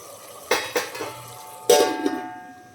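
A spatula scrapes and knocks against a pan while cabbage and chana dal curry with tomato pieces is stirred, two clear bursts of metallic scraping close by in a quiet kitchen.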